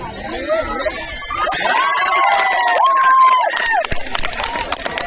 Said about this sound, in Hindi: सभी ने तालियां बजाई दादा सभी ने उत्साह के साथ